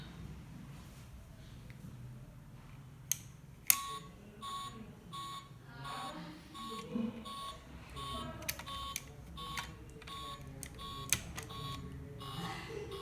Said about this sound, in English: If there is any change, then the alarm will be play continuously.